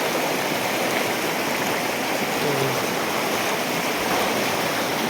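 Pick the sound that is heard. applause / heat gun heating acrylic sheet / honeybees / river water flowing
river water flowing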